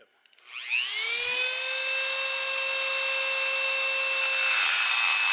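A high-speed die grinder spins up and whines steadily while grinding clearance into the block of a 383 stroker engine for a 1978 Camaro, a loud, sustained shrill tone holding close by with no talk.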